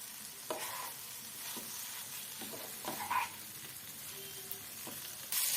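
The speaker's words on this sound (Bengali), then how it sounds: "মশলাটা কষানো হয়ে গেছে দিয়ে দিলাম ভেন্ডি ভাজা" Okra fries in a pan of cooked-down masala of tomato, cumin, chilli powder and turmeric, a quiet continuous sizzle with repeated spatula stirs and scrapes, and a brief louder burst at the very end.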